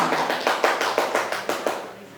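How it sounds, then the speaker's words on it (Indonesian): A small group claps in a teacher-training session, about ten evenly spaced, fairly soft claps in a steady rhythm that fade at the end. "tepuk tangan buat WK"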